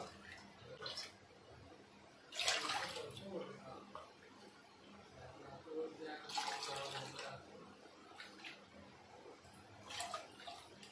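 Water measured out and poured into a pot for boiling, a few short splashing pours in bursts at a moderate distance, with quiet household background between them.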